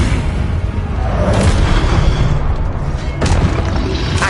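An Incendio fire spell cast in Hogwarts Legacy on PS5 roars as a dense, continuous blast of flame, with sharper whooshing bursts flaring up twice partway through.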